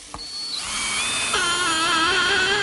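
A power drill bores a pilot hole at a slight angle into wood, with a sharp click followed by a steady high whine that holds and shifts slightly as the bit cuts, loud and close with no talk.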